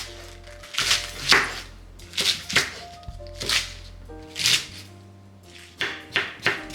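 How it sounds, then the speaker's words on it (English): A knife chops through cabbage on a cutting board, cutting it into large pieces with a series of crisp, irregular thunks and crunches over soft background music. "Remove the hard core of the cabbage and cut it into large pieces."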